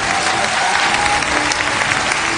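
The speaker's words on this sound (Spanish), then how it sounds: "El aplauso para Mirtha Legrand, para todo el elenco de La Dueña" Applause from a studio audience on an Argentine television variety show, dense and steady clapping that fills the whole stretch at close range with no voices over it.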